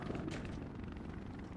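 Helicopter in the Resident Evil 3 video game, a steady rotor and engine drone filling the whole clip at moderate level, with no speech over it.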